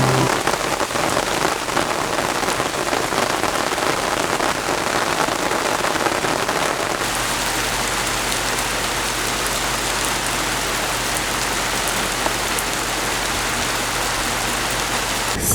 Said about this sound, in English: This is one of those cleansing rains, which I think we need right now.